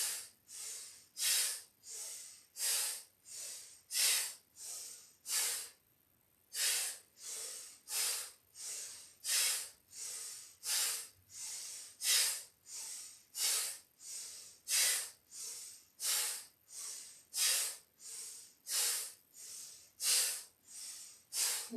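Breathing during a yoga session, heard as quick, regular, hissing breaths in and out, close and clear, repeating steadily with one short pause.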